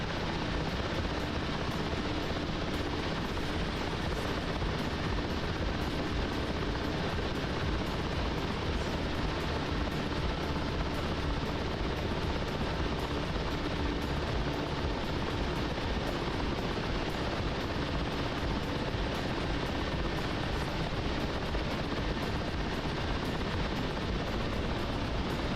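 A Chinook helicopter in DCS World flight simulation drones with a dense, constant rotor and engine roar, loud and unbroken throughout, with no pauses or talk.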